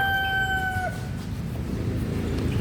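A rooster crows once, its long call trailing off after about a second, heard over the steady crowd and court noise of a basketball league game.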